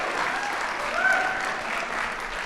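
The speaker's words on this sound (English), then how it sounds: "That applause is for you." An audience applauds at the opening of a school's annual State of the School event, a dense, even wash of clapping holding at a fairly loud level throughout.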